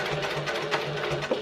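A sewing machine top stitching a clutch wallet near the card slots, running in a steady close rhythmic whirr of even pulses with no pauses across the short stretch.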